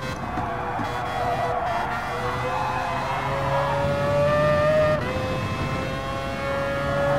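Mazda RX-Vision GT3 Concept '20 race car in Gran Turismo, its engine note climbing steadily through the gears with a sustained, loud whine and a brief dip around a shift.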